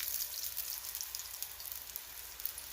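Tortillas for a chicken enchilada bake fry in a pan, giving a faint, steady crackling sizzle with fine popping, heard alone without talk.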